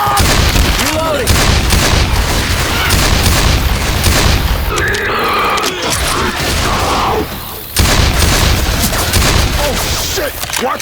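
A shotgun booms again and again amid heavy chaotic gunfire in the video game Left 4 Dead 2, loud and dense throughout, with voices shouting in between.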